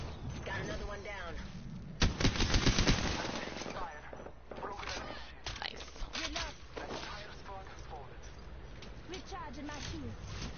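Gunfire in Apex Legends on PS4, a dense burst of rapid shots around the two-second mark, then scattered game sounds and effects under steady talk.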